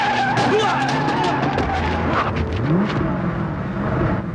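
A car drives off with its tires squealing and skidding, loud and close, its engine revving beneath a couple of sharp squeals.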